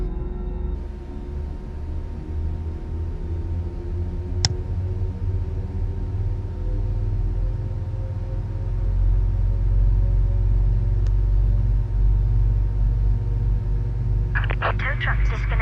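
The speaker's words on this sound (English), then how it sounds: "We'll start engine number 1 now." An Airbus A319 jet engine spooling up in a flight simulator cockpit, a low rumble and rising whine that slowly grows louder, with brief clicks and beeps near the end.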